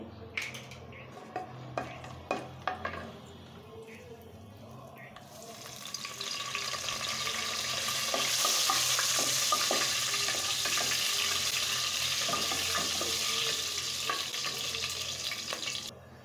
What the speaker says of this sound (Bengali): আমি এখন শুকনো উপকরণগুলো দিয়ে দিচ্ছি।